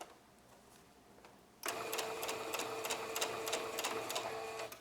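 A sewing machine stitches fabric for a face mask, starting abruptly after a quiet pause and running in a fast, steady mechanical clatter up close until the end.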